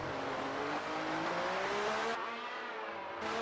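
Engine of a classic race car in a racing video game, steady high revving as the back end kicks out in oversteer on the Austrian circuit, loud and continuous with the pitch rising and then dipping briefly.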